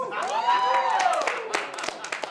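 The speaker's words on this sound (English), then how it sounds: "Oh, y'all clapping for the wrong reason." An audience claps at a Chicago comedy show, scattered hand claps under a drawn-out vocal whoop, lively and fairly close throughout.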